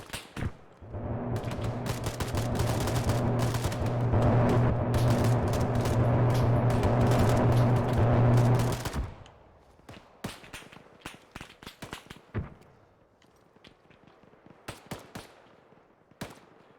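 Sustained automatic gunfire rains on a Hind helicopter in Arma 3, a dense loud barrage of rapid shots for about eight seconds under a steady rotor drone, then breaking into scattered single cracks and thuds.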